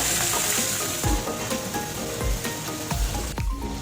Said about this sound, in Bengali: একটু ভেজে দেব